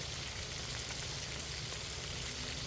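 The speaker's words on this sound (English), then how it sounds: "our pork's getting nice and crispy" Pork crisping in a hot pan gives a steady, close, dense sizzle and crackle that holds unbroken throughout, with no voices.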